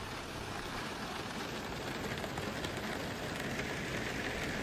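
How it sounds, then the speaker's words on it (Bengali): Heavy rain pours steadily in the Sundarbans mangrove forest during the monsoon, a dense, even hiss of drops on surfaces with no pauses and no voices. "ঝমঝমিয়ে বৃষ্টি এলো।"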